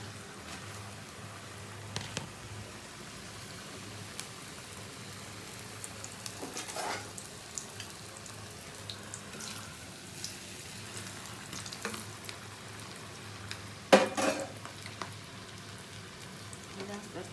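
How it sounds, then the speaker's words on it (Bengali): Food frying in hot oil, a soft crackling sizzle that holds steady throughout with scattered pops and one louder clatter, fairly quiet and close, with faint speech in the background. "আমি গরম তেলে ভিজে দেবো"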